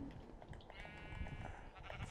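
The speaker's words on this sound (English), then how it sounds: "Fuck all these sheep." Sheep bleating in the Minecraft video game, a few wavering game-animal cries layered over a busy background of other sounds.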